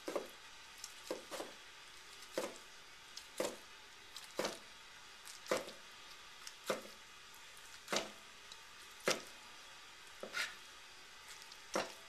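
Knife slicing through braised boneless lemon chicken on a board, about a dozen crisp, evenly spaced cuts, close but quiet, with no voices.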